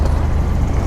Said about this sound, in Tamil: ஃபுல்லாக டிராஃபிக் ஆகிட்டே இருக்குது